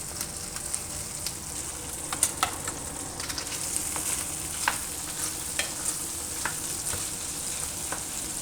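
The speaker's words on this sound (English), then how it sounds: "So now I'm cooking the bacon." Bacon sizzles and crackles steadily in a pan for a tomato bacon jam, a continuous close hiss dotted with frequent small pops and spits throughout.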